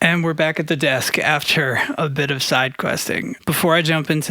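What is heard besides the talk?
No everyday noises stand out.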